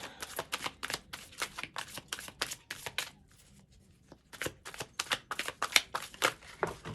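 Tarot cards shuffled by hand in rapid crisp riffles and flicks, close and fairly quiet, with a brief pause midway before the fast shuffling resumes.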